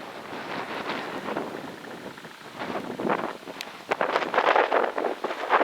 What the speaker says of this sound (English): The wind is making it hard for me to film.